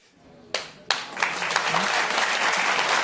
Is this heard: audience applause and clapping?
yes